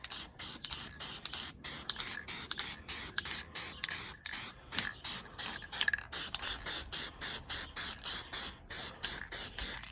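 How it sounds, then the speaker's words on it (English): Black spray paint hisses from an aerosol can onto Porsche 911/912 suspension parts in short, evenly spaced bursts, roughly two dozen quick sprays close to the microphone over ten seconds. "let's give that a good coat of black spray paint"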